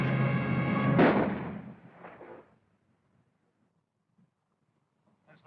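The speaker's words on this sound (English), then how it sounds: "That's the way to do it. Shoot them." Gunfire booms from an old 1936 film. A heavy, echoing blast rolls and decays over a couple of seconds, followed by near silence and a faint burst at the end.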